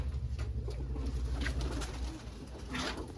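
Pigeons cooing inside a coop during cleaning, several soft repeated coos close by over low background hum.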